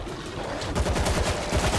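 Gunfire in the zombie shooter World War Z on a New York level, a rapid burst of shots hitting the player, loud and close with dense repeated cracks over the whole moment.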